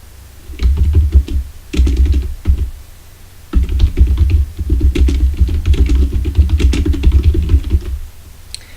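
Rapid typing on a computer keyboard, keys clicking in quick bursts with brief pauses, close and fairly loud, no voices.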